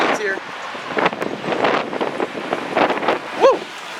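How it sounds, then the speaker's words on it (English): Wind buffets the microphone and rain beats down during a tornado storm in Adel, Georgia, a rough, gusting roar that rises and falls, with a person's voice cutting in near the start and again near the end. "Oh, rain's here."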